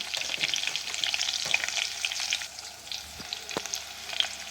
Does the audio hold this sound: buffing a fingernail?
no